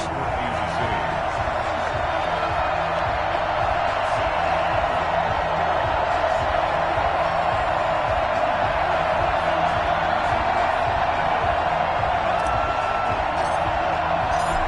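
A dense, steady roar from a football stadium crowd at a Kansas City Chiefs versus Miami Dolphins NFL game fills the whole stretch at constant loudness, a broad wash of cheering with no distinct breaks.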